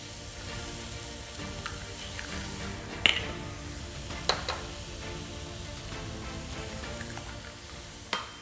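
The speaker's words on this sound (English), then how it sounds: "I'm going to move it all to one side of the wok, and then we're going to crack 2 eggs into this." Eggs hit a hot wok beside cauliflower rice, giving a steady low sizzle with a few sharp clicks and taps from utensils, close by and with no talking.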